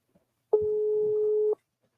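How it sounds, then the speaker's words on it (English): A telephone ringback tone sounds while a call is placed during a talk program: one steady, clear electronic burst lasting about a second, with silence before and after and no talking. "the phone is ringing, so we"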